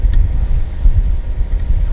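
A sailboat motors slowly under engine power against wind and current, with a steady low rumbling drone and wind buffeting the microphone, loud and continuous, no speech.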